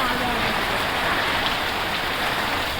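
The year's first rain falls steadily, a dense, even hiss of drops striking surfaces nearby that holds at constant loudness throughout, with no pauses or separate drips standing out.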